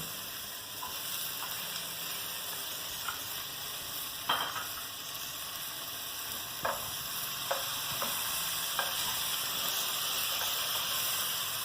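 Tomatoes frying in a pan for cabbage curry give a steady, soft sizzle and hiss, with occasional sharp pops and spatters scattered throughout.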